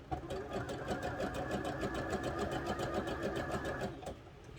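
A sewing machine runs a steady, rapid stitching rhythm down a seam with pins still in it, continuous for about four seconds before stopping and fading out.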